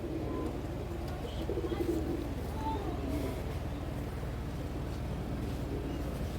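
Black Dombaju pigeons coo softly in a loft, low throaty calls drifting over a steady background hum.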